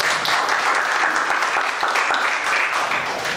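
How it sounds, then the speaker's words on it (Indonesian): Audience applause at an Indonesian Hakka Ako Amoi pageant event, a steady dense wash of clapping from a crowd filling the whole moment, loud and close with no pauses. "tepuk tangan untuk HK."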